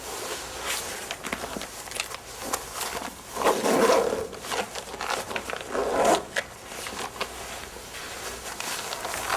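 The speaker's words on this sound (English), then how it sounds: "Carefully pull the zipper up." An immersion suit's zipper is pulled up in slow rasping strokes, close and fairly loud, with rustling of the suit fabric between the pulls.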